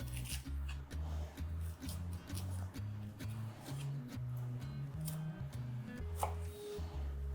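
Knife cutting around a jalapeno on a cutting board to remove the seeds, soft repeated slicing and tapping strokes under a steady low background hum.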